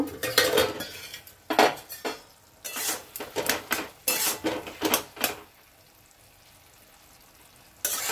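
A lid comes off a cooking pot of spinach (palong shaak) with loud metallic clanks and clatters in several close bursts. A quieter simmering stretch follows, then a final clank.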